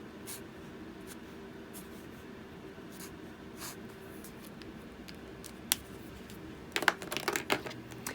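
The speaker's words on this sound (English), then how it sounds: "we can just carefully draw in our own stems" A fine tip pen draws stems on a Bible journaling page, giving faint, soft scratching strokes at close range over a low steady hiss, with a brief burst of quicker scribbling near the end.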